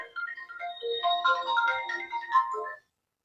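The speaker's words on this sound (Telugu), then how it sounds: "మీ నాన్న ఫోన్ చేసినారు" A phone ringtone plays a short bright melodic phrase for under three seconds, loud and close, alone with no talk, then cuts off abruptly as the incoming call is answered.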